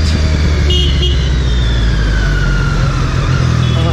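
An inline three-cylinder engine rated at 79 bhp runs steadily up close, a loud continuous low rumble with a faint high whine threaded through, and no voices over it.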